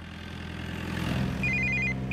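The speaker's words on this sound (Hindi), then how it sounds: "ए, ए, बाजू में लगा फोन आ रहा है।" A telephone rings with a bright, warbling electronic trill that starts partway through and repeats in quick pulses, heard over a low steady engine-like hum with no talk.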